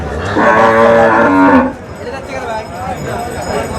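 A bull at a cattle market in Nilphamari gives one loud, close, drawn-out moo lasting over a second, followed by quieter background murmur of the market.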